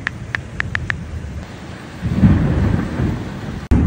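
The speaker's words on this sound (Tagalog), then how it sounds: "Lakas ng ulan, kulog at kidlat." Heavy rain pours steadily while thunder rumbles low and close, swelling midway through, with a few faint beeps at the start.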